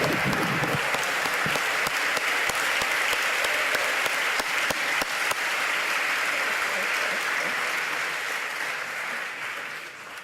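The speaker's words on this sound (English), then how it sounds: "Let's give one more big round of applause." A big round of applause at a Brown University engineering graduation ceremony, dense sustained clapping from a large crowd that holds strong for several seconds, then gradually thins and fades out at the end.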